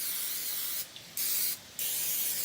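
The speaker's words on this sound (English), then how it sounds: "I'm just going to go ahead and spray my pan down with the cooking spray." Canola oil cooking spray hisses onto a clear baking pan in two short, close bursts, each under half a second, with a brief pause between them and no talk.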